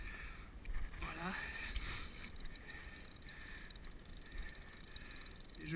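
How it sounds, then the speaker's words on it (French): A sailing boat eased back into its berth at a dock, with water lapping and hull sloshing under steady wind noise, a few soft knocks and creaks along the way. "Et je finis de ramener le bateau à sa place."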